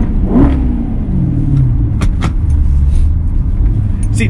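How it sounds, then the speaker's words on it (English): A Maserati GranTurismo engine revs in a few quick blips close by, a throaty low roar rising and falling over a steady rumble. "Kids love it, so you know, you have to rev it for them."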